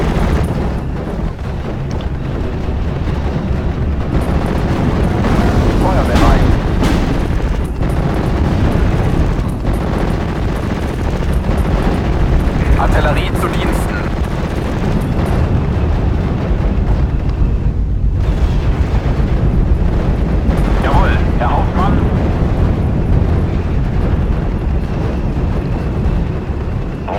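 Artillery fires in the war game Steel Division, heavy booms and blasts rolling over one another in a loud, sustained barrage, with several sharper bursts standing out against a dense rumbling background.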